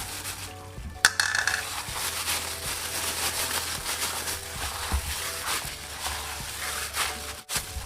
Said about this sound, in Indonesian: Jadi ngaduknya kita pakai sarung tangan ya, biar lebih gampang